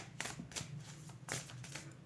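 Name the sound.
shuffling a deck of cards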